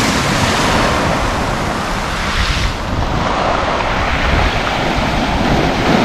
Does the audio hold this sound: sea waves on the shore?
yes